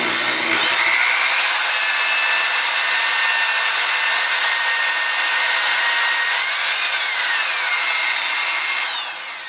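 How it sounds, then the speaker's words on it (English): Electric drill spinning steadily to polish the inside of a rifle barrel, a loud continuous high whine that holds level for several seconds, rises briefly in pitch, then winds down near the end, close by with no talk. "I'm going to rotate the drill to allow it to polish the inner barrel"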